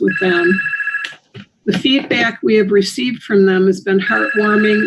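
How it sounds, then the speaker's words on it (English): A telephone rings in the background of a city council meeting, with repeated bell-like tones at the start and end of the stretch while someone speaks steadily over them. "I'm sorry for my phone ringing in the background."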